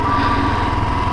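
Used motorcycle engine running after being started, a close, steady buzzing drone with a fast rhythmic putter underneath, loud and alone.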